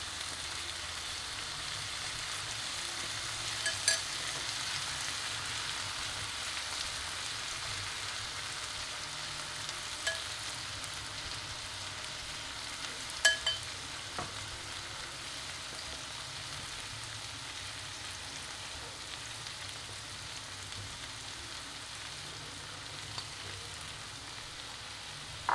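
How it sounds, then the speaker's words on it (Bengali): Prawns for a Bengali-style tandoori frying in a pan after being flipped, giving a steady soft sizzle throughout with a few faint clicks and no talk. "আমার একদিক ভাজা হয়ে গেছে।"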